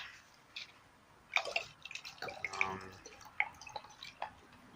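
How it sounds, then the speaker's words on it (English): Sweet red wine from the Gallo family trickles into a small plastic wine glass outdoors, a soft, close pour with light splashing and drips that come in uneven bursts. "Pouring the wine right now in this little plastic wine glass."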